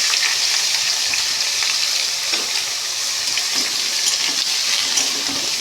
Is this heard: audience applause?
no